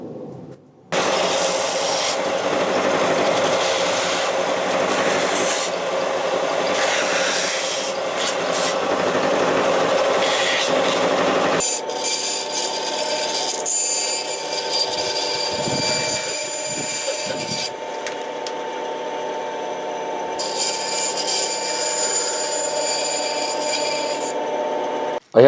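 A belt sander trims the metal corner leaves of an Ark of the Covenant model, giving a steady close whirring rasp that runs almost continuously, shifting tone midway as the workpiece contact changes.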